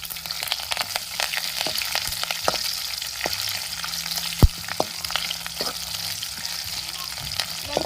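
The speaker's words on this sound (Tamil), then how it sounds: "வெங்காயம் கொஞ்சம் வதங்கி வரட்டுங்க." Onions frying in oil with dried red chillies and curry leaves, a close crackling sizzle punctuated by frequent spoon scrapes and one louder clank, no voices.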